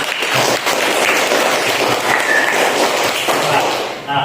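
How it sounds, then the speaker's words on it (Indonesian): A classroom group claps together for a student group's presentation in a dense, steady burst of applause that fades out at the end, with voices mixed in. "kita berikan tepuk dulu ya supaya semangat"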